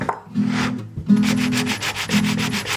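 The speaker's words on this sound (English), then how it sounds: "Now just take my files and file it down" A metal file rasping down the saddle of a 1970s Ibanez Concord acoustic guitar in a chrome bridge, three close back-and-forth scraping strokes with a gritty, rhythmic rub.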